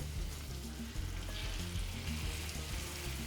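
Two ribeye steaks frying in a hot pan, a constant close sizzle with crackling spatter and low pan rumble, steady and unbroken by speech.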